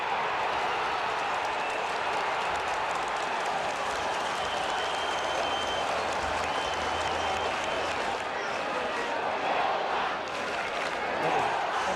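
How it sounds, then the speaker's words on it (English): Australian football stadium crowd at Moorabbin roaring after a goal in a 1980 St Kilda versus Essendon match, a sustained loud wall of cheering and applause that continues throughout beneath a commentator's talk. "the Moorabbin crowd going berserk"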